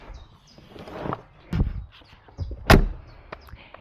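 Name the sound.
Mercedes G 450d door closing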